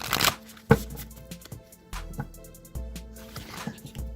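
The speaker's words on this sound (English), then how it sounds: "I'm going to shuffle the Halloween Oracle 3 times" A Halloween oracle card deck is shuffled by hand, several quick riffling bursts of cards with short pauses between them, close and crisp, with no one talking.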